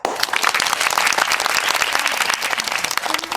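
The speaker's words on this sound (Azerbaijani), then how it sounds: "bir dənə gürültülü alqış alaq" Loud, dense applause from a crowd of hands, steady and close for a few seconds with no talking over it.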